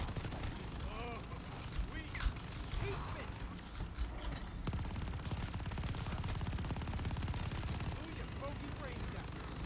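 Sustained automatic gunfire from a light machine gun in the Call of Duty Vanguard zombies and multiplayer game, dense rapid bursts running nearly unbroken across the whole stretch with steady loudness.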